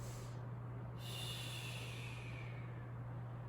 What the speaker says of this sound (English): Sniff, sniff.